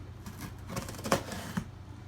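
A knife slices open a cardboard box holding wireless motion sensor solar lights, a close, rough scraping and tearing that builds over a couple of seconds, with a few small knocks and no talking.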